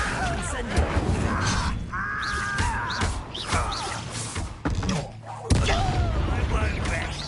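An Incendio fire spell cast in Hogwarts Legacy during a duel, with whooshing magical bursts, booms and crashing impacts mixed among other combat effects and game music, with voices talking over the action.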